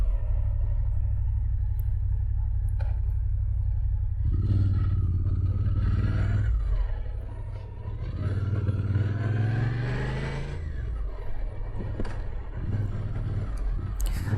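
A motorcycle engine rumbling while riding on the open road, heard through a helmet-mounted microphone as a loud continuous low drone mixed with wind buffeting, with the engine note rising and falling as the rider shifts.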